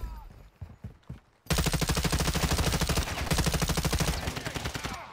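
A 5.56 Icarus light machine gun loaded with incendiary rounds fires in the video game Warzone, opening with a few quieter shots before a loud, sustained rapid burst lasting several seconds.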